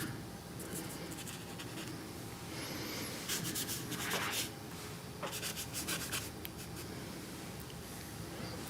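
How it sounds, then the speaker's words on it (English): Chalk line being erased from an acrylic painting of a black cat, a soft scratchy rubbing across the canvas in bursts of short strokes, close and fairly quiet. "I'm gonna erase that chalk line there"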